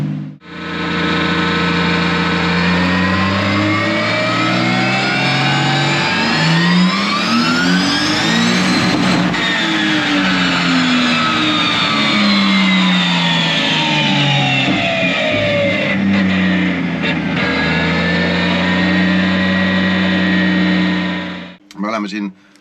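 A 2JZ engine in a Nissan 350Z drift car revs hard on a dyno, its loud, continuous note climbing steadily in pitch, peaking, then falling back and rising again before cutting off abruptly near the end.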